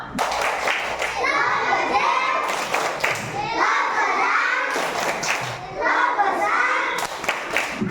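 Children chant in unison while clapping hands in bursts of rhythmic claps, the clapping and voices mixed together, close and lively.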